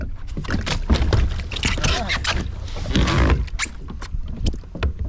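Kayak paddle strokes splash and drip in river water at a steady rhythm, close by, with light scraping and wind in the background.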